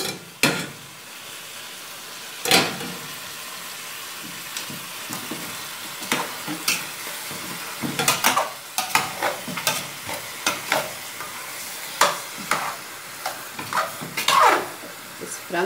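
Free-range chicken frying in a pan is stirred, a soft continuous sizzle broken by repeated scraping and clinking knocks of the utensil against the pan, irregular and close.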